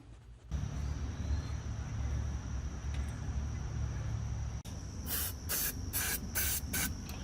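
Aerosol fluid sprayed into a Tecumseh H60 small engine outdoors, heard as a long, loud, continuous close hiss followed by several short, sharp bursts of spray.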